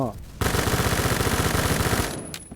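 Rapid automatic fire from a K1A rifle in the Phantom Forces shooting game, a loud sustained burst of evenly spaced shots lasting about a second and a half before cutting off, with faint game sounds after.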